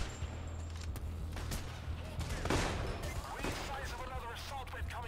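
Gunfire in the heist shooter game Payday The Heist, bursts of shots crackling through a steady game soundtrack at moderate level, with a voice talking over part of it.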